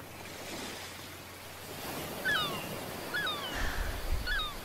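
Ocean surf rolls onto a beach on a hot day, a steady wash of waves with gentle surges and some wind, with faint seabird-like cries above it.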